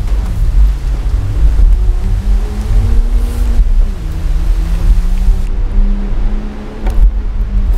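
A new Land Rover Defender 4x4 ploughs through a jungle river, its engine droning low and loud, shifting in pitch, under a constant rush and splash of water against the body, heard close with no voices.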